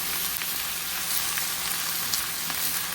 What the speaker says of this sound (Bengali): এবারে পেঁয়াজ আর রসুন দুটাকে আমি একটু ভেজে নিব।